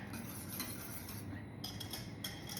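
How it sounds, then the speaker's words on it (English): Light scraping and clinking of a whisk working a custard mixture in a pot, a brief quiet stretch of irregular metallic strokes with no voices. "stir it back in while you're whisking. Whisking. I think I have a new word. I'm whisking it."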